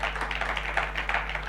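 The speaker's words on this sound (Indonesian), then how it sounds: "Tepuk tangan bagi Tuhan Yesus." A church congregation at a Sunday service claps together in a quick, rhythmic beat, moderately distant and a little roomy, over a low electrical hum.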